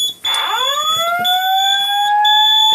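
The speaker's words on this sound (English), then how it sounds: "Goes back into alarm." A Simplex 4008 voice evacuation fire alarm system sounds a loud, continuous electronic alarm tone that sweeps up in pitch and then holds steady, with no talking over it.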